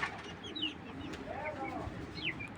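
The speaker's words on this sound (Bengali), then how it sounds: "এটি বিআরপিএফসি ক্লাবের কবুতর।" A racing pigeon coos softly in a low rolling call, faint against background noise, with a few brief higher chirps nearby.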